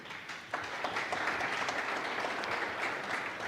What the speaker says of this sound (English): So a final applause for them.